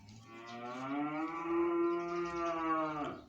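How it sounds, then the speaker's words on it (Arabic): A cow in Sohag, Egypt, that has a male calf moos once, a long loud close bellow lasting about three seconds that ends in a falling tail. "معانا النهاردة يا جماعة البقرة اللي حضراتكم شايفينها دي"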